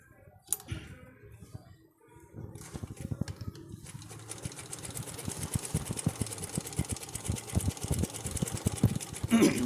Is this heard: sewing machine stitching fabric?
yes